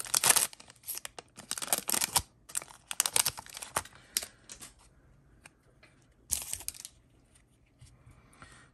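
Foil wrappers tear open on 2022 Panini Prizm hobby trading card packs, with close, crisp crinkling and ripping bursts that come in irregular clusters and quiet gaps between them. No one speaks.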